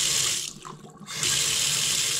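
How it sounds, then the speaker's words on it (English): Water runs from a kitchen faucet fitted with a stainless steel filter in a steady, close hiss, cutting out briefly in the middle before flowing strongly again, with no talk. "when you want to just have water for your normal sink or for your normal faucet"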